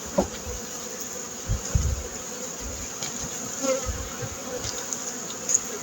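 Honey bees buzz steadily around an open hive colony being inspected before winter, a dense close hum with occasional individual bees droning louder as they pass near.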